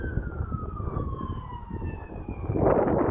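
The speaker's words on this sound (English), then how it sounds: "I hate the sound of sirens now" A wailing emergency vehicle siren slides slowly downward in pitch over steady traffic rumble, heard from a moderate distance with no one talking.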